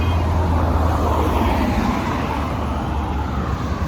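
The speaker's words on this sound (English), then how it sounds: "Not sure if you can hear me, because this traffic is no joke." Constant street traffic roar in Nigeria: a dense, steady rumble of engines and road noise with a heavy low hum, close and loud throughout.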